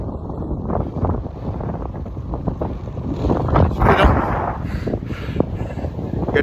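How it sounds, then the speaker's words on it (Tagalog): Strong wind buffets the microphone while cycling in Denmark, loud, rumbling gusts that rise and fall throughout. "Lakas lang talaga ng hangin."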